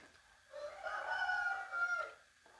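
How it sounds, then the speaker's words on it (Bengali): A rooster crows once, a drawn-out cock-a-doodle-doo at moderate distance, with a quiet background. "আমাদের অনেকগুলো মুরগি আছে ওরা চিল্লায় সকাল জন্য"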